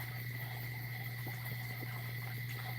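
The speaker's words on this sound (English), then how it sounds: "I got tree frogs up here. They live in that plant." Tree frogs calling from a plant by a porch in the countryside, a steady high trilling chorus mixed with insect chirps, continuous and even throughout with no talking.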